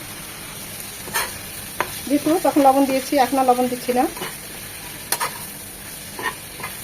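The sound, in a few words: spices frying in a pan for patal bharta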